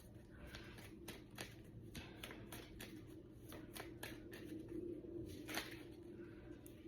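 Romance Angels tarot deck being shuffled by hand, a soft, close, continuous riffling and sliding of cards with light flicks over a low background hum, no talking.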